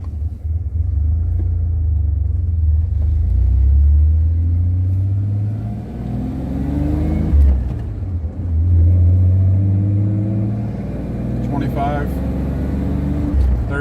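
A 1987 Ford Ranger pickup accelerates hard from a stop toward 60 mph, its engine rumbling loud and close as it revs up through the gears, with dips at the shifts and a voice speaking over it.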